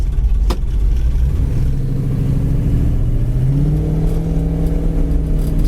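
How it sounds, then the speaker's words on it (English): A 1973 Dodge Challenger Rally muscle car runs with a deep, loud, rumbling idle close by, then its engine note climbs smoothly as it revs up toward the end, with no talking. "This car sounds great."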